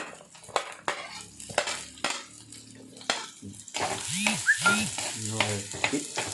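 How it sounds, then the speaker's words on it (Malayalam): Onion sautéing in a pan with garlic and ginger for a prawns roast: steady close sizzle with repeated scraping stirs of a spoon against the pan, growing louder and busier in the second half, with some clinks of utensil on metal. "വെളുത്തുള്ളി ഇഞ്ചി ആഡ് ചെയ്തിട്ടുണ്ട്. സവാള ആഡ് ചെയ്തുകൊണ്ടിരിക്കുകയാണ്."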